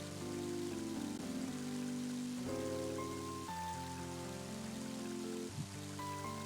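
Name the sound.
rain in the video game Mother 3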